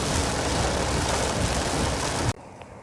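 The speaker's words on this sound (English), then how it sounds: "Yep, still raining." Steady rain patters loudly on a surface as a constant wash of noise, then cuts off abruptly near the end.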